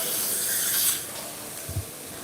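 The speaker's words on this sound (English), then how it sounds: "he's in there spraying right now" A steady hissing spray runs inside the roof of a tiny home under construction, loud and continuous, with a brief low thump near the end.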